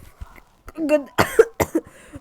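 A couple of sharp, harsh coughs burst out close by, mixed with brief vocal sounds and short quiet gaps between them.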